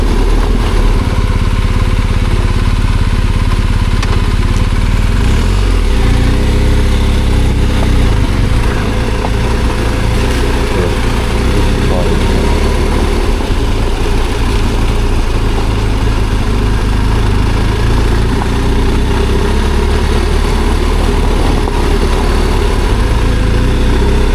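BMW R1250 GS motorcycle riding off-road, a loud steady engine drone with low rumble holding throughout, close and continuous with no pauses.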